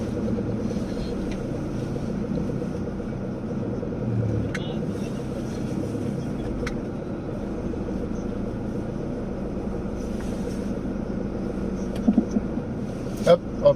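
Engine of a vehicle being pulled along on a tow strap, a steady low rumble running throughout at moderate level, with a few brief clanks near the end.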